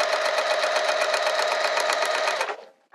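A sewing machine top-stitches a cork wrist pouch, a loud close rapid rhythmic whirring and clatter that runs steadily, then slows and stops near the end, followed by a small click.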